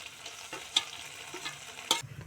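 Onion paste frying and being stirred in a pan for a Bengali fish curry with potato and pointed gourd: a soft sizzle broken by a few scraping clinks of a spoon against the pan, close and fairly quiet.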